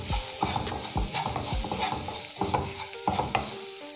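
Ground masala mixture being stirred in a pan for Chettinad prawn varuval, with close rhythmic scraping strokes repeating about twice a second over a low sizzle.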